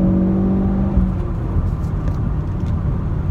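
A Ford Focus RS at about 60 mph through a turn, with a steady, loud engine drone and road roar from inside the car, a revving rise early on and an even hum afterward.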